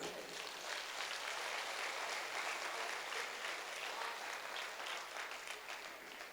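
A hall audience at a Hindi kavi sammelan poetry evening applauds, a thick, sustained roar of clapping from a large crowd that holds steady at the same level for several seconds.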